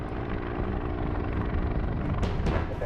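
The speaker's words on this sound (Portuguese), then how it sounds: "Quando o helicóptero voltou ao chão" Helicopter touching down, a loud low rotor thrum and engine rumble filling the scene continuously at close range, with a couple of brief sharper bursts near the end.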